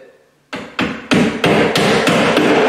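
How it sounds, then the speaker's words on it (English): Six loud hammer blows ring out at a steady pace as nails are driven through metal drywall corner bead, each strike sharp and close with a short metallic ring, and the hits grow slightly louder as they go. "the nails have to be opposite each other"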